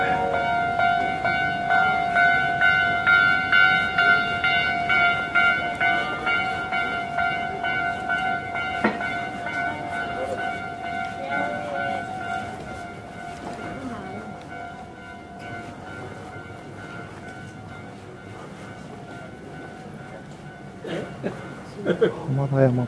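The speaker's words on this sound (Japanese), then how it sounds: "電車が近づいてきてますね。" A Keio Inokashira Line train draws near Hamadayama Station at a level crossing. Steady tones and a low rumble run throughout, growing louder in the final seconds, with some voices nearby.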